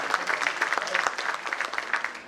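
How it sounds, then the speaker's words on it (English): An audience at an investors forum claps heartily, a brisk, moderately loud patter of many hands with faint voices mixed in. "Let us give him a hearty clap"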